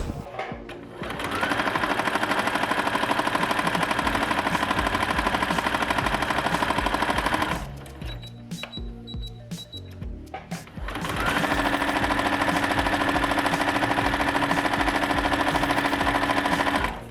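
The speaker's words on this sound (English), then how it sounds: "we will sew on both sides of our line" A sewing machine stitches seams on a quilt block in two loud, sustained runs of rapid mechanical whirring, separated by a short pause of quieter handling sounds.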